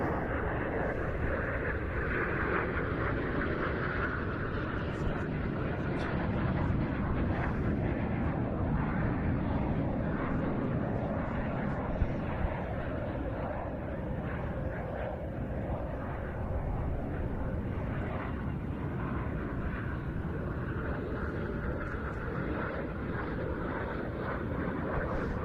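A Short Tucano turboprop trainer flies at an air display at IWM Duxford, its steady broadband engine drone sustained and fairly loud throughout, without a break or any voices over it.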